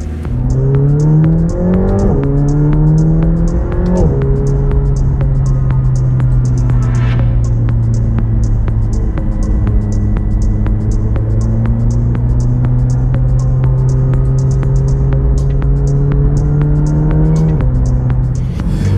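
A powerful McLaren 720S Spider engine drones loudly from inside the cabin, revs rising and falling through gear changes over a steady rumbling hum.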